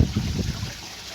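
A waterfall with orchids growing out of it, heard close up as a steady rushing, splashing flow of water with no voices.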